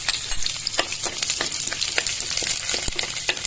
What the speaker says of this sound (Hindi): अब हम इसमें कटा हुआ लहसुन डालेंगे।